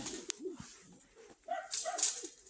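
Pigeons kept by a breeder give soft, low cooing calls near at hand, a few rounded murmurs with brief rustling and a sharper sound in between.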